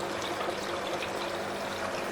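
Water pours steadily into a filter box, a constant close rushing trickle that fills the space without pause or voices.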